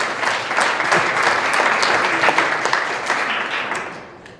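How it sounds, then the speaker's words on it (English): Audience applause fills the room at a civic downtown awards event, a steady wash of many hands clapping at even volume for about four seconds before tapering off slightly at the end. "So let's give a nice round of applause for that too."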